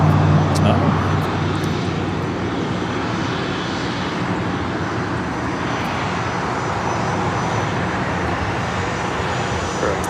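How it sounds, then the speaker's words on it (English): A Cessna Citation Latitude jet arriving at LAX rumbles as a broad, steady roar from a distance, continuous throughout, with people chatting over it. "Here we have a citation latitude coming in from San Luis Obispo."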